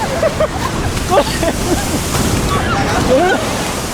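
Ocean surf on a Chilean beach: a constant loud wash of waves and wind buffeting the microphone, with excited voices talking and exclaiming over it.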